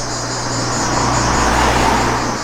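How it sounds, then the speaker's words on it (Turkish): A car drives past on an island road while heard from inside another car, a steady loud engine and tyre roar with a faint whine, no talking. "Şu araba geçsin bizim arabanın yanından."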